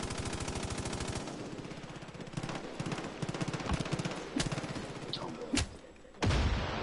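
Heavy machine gun firing in Far Cry 5: a fast, loud, even burst of rounds at the start, then scattered single shots and thuds, with a final close, heavy blast.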